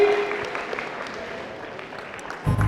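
A game show audience claps in a modest, uneven round that runs under some background voices, with a louder clatter at the very end.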